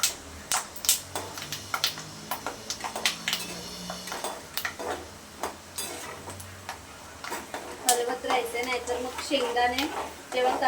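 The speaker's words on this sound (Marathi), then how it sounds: "दोन ते तीन मिनटं लागतात शेंगदाणा फ्राय होण्यासाठी" Peanuts frying in oil for a crispy Maharashtrian corn chivda, a light sizzle under frequent sharp clicks and scrapes of a spoon stirring in a pan, close and without speech.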